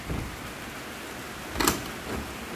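Steady rain falls outside a house in rural Thailand during flooding, a soft continuous hiss with one brief louder splash-like burst midway and no voices.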